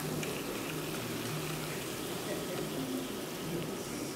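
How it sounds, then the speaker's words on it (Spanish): Wine bubbling and evaporating in a paella sofrito, a steady soft sizzle and simmer held at an even low level throughout, with faint background voices. "ahora vamos a dejar que todo el vino se evapore y que vuelva a llegar al punto de freír"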